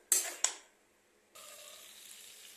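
Mutton being sautéed in a pan for a masala curry: two sharp clanks of a utensil against the pan, a quiet pause, then a steady close sizzle.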